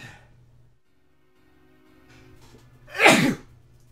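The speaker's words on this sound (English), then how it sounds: "I'm gonna sneeze." A single sharp human sneeze bursts out near the end after a quiet stretch with faint background tones, loud and close, with no talking.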